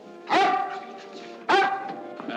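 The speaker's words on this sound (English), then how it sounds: "he's the one who's barking, not me" A dog gives two loud, close barks about a second apart, each sharp onset trailing off into a short tonal whine, in a 1953 film scene.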